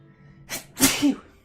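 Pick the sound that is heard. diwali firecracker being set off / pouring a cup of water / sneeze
sneeze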